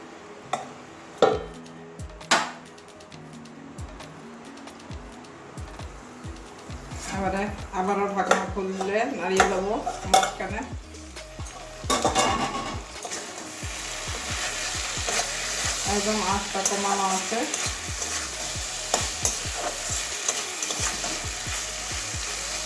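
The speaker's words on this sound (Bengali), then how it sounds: "হালকা হালকা মাঝখানে ঢাকনাটা তুলে নাড়িয়ে দেবো" A pot lid lifted and a spoon stirring taro stolon curry, with knocks and scraping clatters between quieter stretches of low simmering sizzle; a few soft rubbing sounds and no clear talk.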